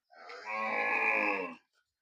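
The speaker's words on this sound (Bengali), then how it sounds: "এই গরুটা কেনা হয়েছে মাত্র দুই দিন হয়েছে" A newly bought fattening cow gives a single clear moo, rising into a sustained bellow and then cutting off, fairly close in a quiet setting.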